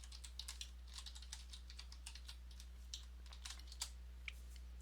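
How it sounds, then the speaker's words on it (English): Faint typing of a password on a computer keyboard, scattered soft key taps heard at a distance over a steady low electrical hum. "put in your password"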